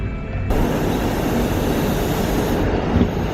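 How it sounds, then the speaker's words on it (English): A suburban train arriving at a station in Bangalore, a broad, steady rumbling roar rolling past nearby, loud and continuous with faint rattling and a brief squeal near the end. "Finally the train has arrived"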